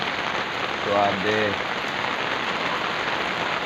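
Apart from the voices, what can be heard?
rain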